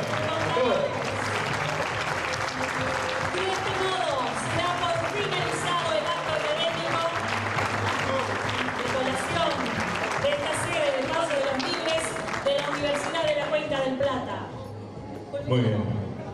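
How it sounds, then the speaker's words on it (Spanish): At a university graduation ceremony, a crowd applauds the graduates in sustained clapping that carries on beneath cheering, chatter and laughter, then tapers off near the end. "Es un caluroso aplauso para todos ellos"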